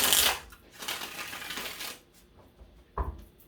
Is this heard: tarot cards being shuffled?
yes